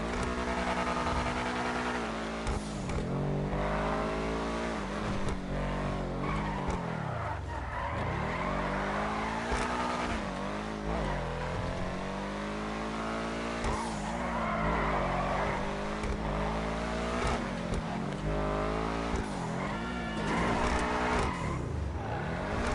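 A car in GTA 5 Online revving and shifting while tires squeal through long drifts, continuous motor whine rising and falling with skidding screeches, game-like and close.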